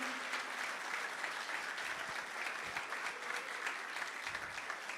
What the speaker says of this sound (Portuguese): aplauda ao Senhor, glorifique ao Senhor com as tuas palmas